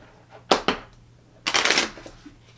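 A deck of playing cards is shuffled by hand: two quick, crisp riffles close together, then a longer fluttering riffle a second later, close and fairly loud in a quiet room with no talking.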